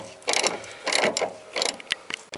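Metal tool work on a shock absorber nut of a 2002 Isuzu Rodeo front shock: a vice grip loosening the nut gives close, irregular ratcheting clicks and metallic clatter in several short bursts, with no talking.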